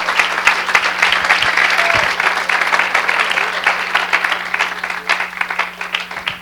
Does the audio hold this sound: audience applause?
yes